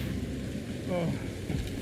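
Steady rain falling in the Guardians of the Galaxy video game, a dense low hiss throughout with a brief brighter tonal blip in the middle.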